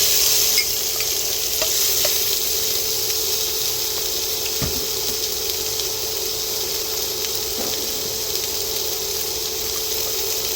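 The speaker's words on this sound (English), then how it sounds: "once my oil has heated up, I'm going to go ahead and add those red peppers" Red peppers sizzle steadily in hot oil for a crispy beef stir fry, a close, continuous frying hiss with a few faint clinks of a utensil and no voices.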